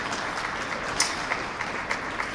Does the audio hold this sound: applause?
yes